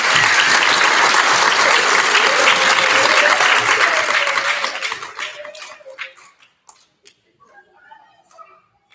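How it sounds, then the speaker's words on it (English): An elementary school audience claps loudly at a student recognition ceremony, sustained close applause that thins out after about five seconds into a few scattered claps and faint murmurs. "one big round of applause for our special area"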